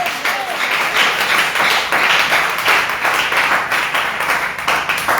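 A church congregation applauds at a New Year's Eve night service, a dense, steady wash of many hands clapping at close range, sustained and fairly loud without pause.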